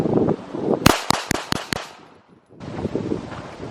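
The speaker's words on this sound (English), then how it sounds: "5 rounds with the Glock, rhythm fire, 5 yards." Five sharp Glock pistol shots fired in an even rhythm at a range, loud and close, each crack separated by a brief gap, with wind noise before and after.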